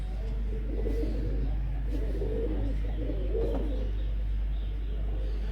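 Lakha pigeons coo in repeated low, rolling phrases that swell and fade across the stretch, fairly close, over a steady low hum.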